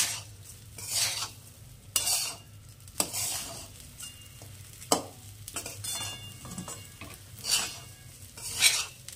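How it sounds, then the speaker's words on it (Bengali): Rice for Bengali-style vegetable bhuna khichuri is stirred and fried in a pan: a steady low sizzle broken by repeated scraping strokes of a spoon against the metal, roughly one every second or two, close up with no talking. "চালের রংটা একটু সাদা সাদা হয়ে আসবে, একটু ভাজা ভাজা হবে, একটু ফেড হবে কালারটা"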